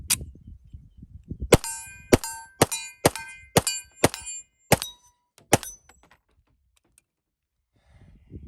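A TISAS 1911 Stingray Carry .45 ACP pistol fires about nine loud, sharp shots in a fairly even rhythm outdoors, each a crisp crack with a short ringing tail, followed by quiet.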